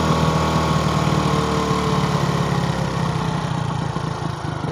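A small engine idles steadily and loudly while its carburettor air screw is adjusted, a continuous chugging drone with a slight dip in pace toward the end.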